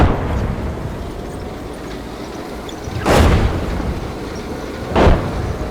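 Two incoming artillery shell explosions in the tank game GHPC, each a sharp, heavy boom a couple of seconds apart, standing out over a low rumbling battlefield background.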